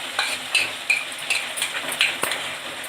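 Green chili, coriander, coconut and ginger-garlic paste get sautéed for prawn masala, a soft sizzle under several sharp spoon scrapes and clinks against the pan, close and steady with no talking.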